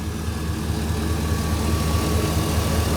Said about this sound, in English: At the business end of this Silverado 2500, we find here it's 6-liter Vortec V8.